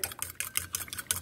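Bread crumbs and egg being stirred together in a bowl at home, a quick series of soft, scraping clicks in an uneven rhythm, close and quiet with no talking.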